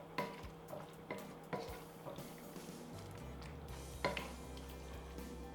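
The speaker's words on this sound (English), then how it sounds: "we're just going to let the mushrooms simmer in this sauce so they just pick up all that flavor" Mushrooms simmer in barbecue sauce in a pot, giving a soft steady bubbling with a few utensil clinks and scrapes from stirring, heard alone and fairly quiet.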